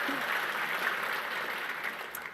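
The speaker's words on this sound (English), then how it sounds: "That's a good thing to clap for." Audience applause at a political address to Republicans, a dense, steady wash of many hands clapping throughout, fairly loud and even, with no speech over it.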